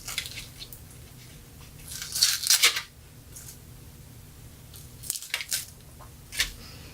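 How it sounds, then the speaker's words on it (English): Garlic cloves being smashed flat under a knife blade on a cutting board, a couple of soft crunchy squishes close by with quiet handling between, and no talking. "The easiest way to peel these is to put them down and smush them with a knife."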